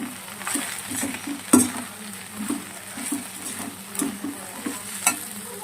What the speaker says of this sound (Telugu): కరివేపాకు వేస్తున్నాను ఇప్పుడు నేను